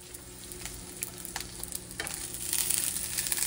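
A sample slice of embutido fries in a pan with a steady sizzle and light crackling pops that grow louder toward the end, close and with no voices.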